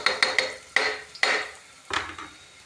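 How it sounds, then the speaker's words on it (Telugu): Dal and rice are stirred in a pot, with a quick run of metal spoon scrapes and clanks followed by a few longer, louder scraping strokes, close and without talk. "అడగంటుకుంటే చాలా లైట్గా అట్లా కలుపుకుంటుండాలి ఒక్కొక్కసారి"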